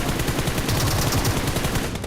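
A mutant rifle in a video game fires a rapid, continuous automatic burst of loud, close gunshots that keeps going steadily without pause.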